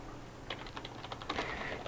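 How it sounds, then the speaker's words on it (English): Keys on a computer keyboard clatter in a quick, fairly even run of close, crisp strokes while text is entered into a knowledge article, with no talking over it. "you can just start typing here"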